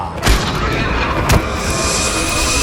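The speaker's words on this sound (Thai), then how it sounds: "รีบชักปืนขึ้นยิงเสียงดังสนั่นลั่นป่า" Two loud gunshots ring out in a forest about a second apart, each a sharp booming crack over a steady dense rumbling background.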